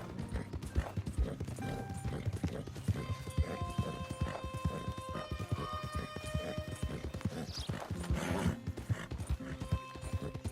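A spotted Appaloosa's hooves clip-clop in a brisk, steady gait in Red Dead Redemption 2, riding through Roanoke near Butcher Creek, with bright tonal game sounds layered over the hoofbeats.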